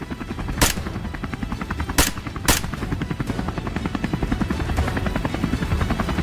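A helicopter circles over dry grassy plains during a wild boar hunt, its rotor chop a loud, steady rapid pulse throughout, broken by three sharp bangs early on.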